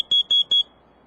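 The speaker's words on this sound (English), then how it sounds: "That's the sound of a CO detector." A carbon monoxide detector alarm sounds three short, loud, high-pitched beeps in quick even succession, then falls silent.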